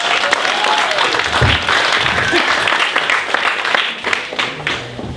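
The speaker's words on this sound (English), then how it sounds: "go ahead and hit that applause button there" Studio audience applause, likely from a sound effect button, played on an improv true crime podcast: a dense, steady wash of clapping at full level that fades slightly near the end.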